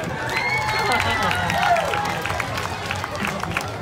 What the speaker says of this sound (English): Let's give a big cheer to Lena.